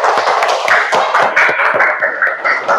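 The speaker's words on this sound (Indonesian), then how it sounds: "tepuk tangan untuk kalian semua." Students in a classroom clap together, a steady burst of dense, fairly loud applause lasting a few seconds with no talking over it.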